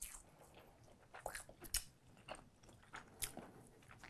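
Someone bites into and chews a shiso musubi rice ball with crunchy toasted sesame, making soft, close crunches and moist, squishy chewing in an irregular rhythm, quiet and with no talking.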